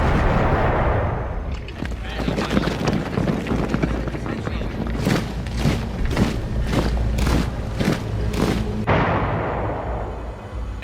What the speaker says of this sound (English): The first cannon shot of the Second World War is fired on Danzig.